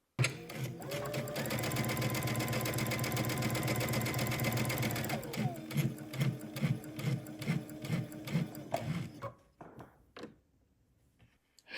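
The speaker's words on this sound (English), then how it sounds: "sew to the end, and backstitch again" A sewing machine runs a long continuous stitch through loungewear fabric, then shifts to shorter rhythmic bursts of backstitching before stopping; close and clear with no talking.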